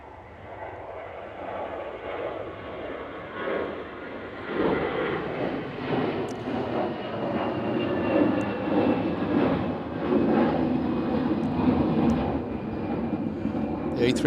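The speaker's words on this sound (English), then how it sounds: "next departure, EasyJet. Just missed it, there we go." An EasyJet airliner departs Manchester Airport with a broad, steady engine roar that swells gradually and holds loud, while voices talk over it.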